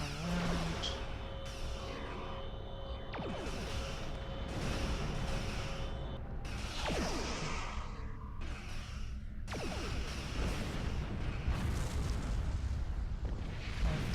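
Mines explode in the Star Trek Online space combat game, with a series of deep booming blasts and crackling bursts over a continuous engine drone, with several blasts spaced apart over the stretch.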